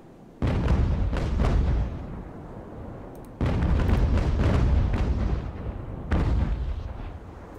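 Sailing-ship cannons firing volleys in the naval battle game Ultimate Admiral: Age of Sail, three loud rolling salvos of overlapping booms, each rumbling for about a second or more before fading, with no talk.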